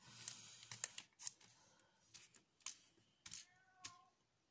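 A cat meows several times in short, separate calls, fairly close, with light tapping or clicking sounds in between.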